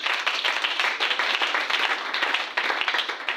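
A church congregation applauding, with steady, dense clapping that fills the whole stretch at close range, rising and falling slightly but never pausing.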